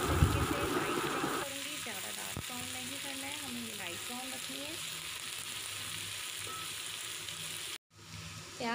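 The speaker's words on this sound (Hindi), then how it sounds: "ये मैंने प्याज ऐड, मैं लाइट ब्राउन करूँगी, ज़्यादा डार्क ब्राउन नहीं करूँगी" Chopped onions sizzle in hot oil in a pan, browning for a keema, a loud burst at first that settles into a steady soft frying hiss under a voice, then cuts out briefly near the end.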